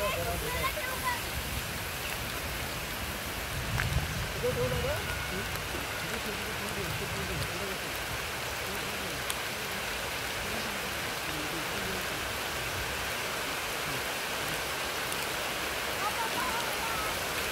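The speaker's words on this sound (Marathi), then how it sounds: "पाऊस आली का पाऊस" Rain falls steadily over a rice field at harvest time, an even hiss of drops that holds at a constant level throughout, with faint voices now and then.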